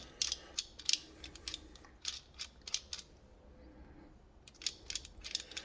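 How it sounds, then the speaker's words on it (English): A clamp being tightened down, giving quiet, irregular ratcheting clicks and metallic ticks with brief gaps between them. "With this, it's nice because you can clamp it, and then you tighten these down"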